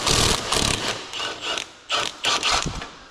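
Socket wrench ratcheting loose the single motor mount nut on a Nissan Z31 with a VG30 engine, several short bursts of close, loud metallic clicking separated by brief pauses.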